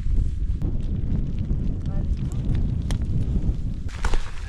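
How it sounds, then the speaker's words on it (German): Wind blusters on a cold, rainy day while bikepacking in Slovenia, a rough low rumble buffeting the microphone with a few scattered knocks and clicks. "Geht der Wind."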